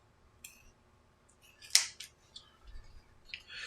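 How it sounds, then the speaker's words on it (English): Scissors snip through the folded end of ribbon while a bow is made for Easter, a single sharp close cut standing out from quiet handling and small rustles before and after. "I'm going to cut that little fold part off"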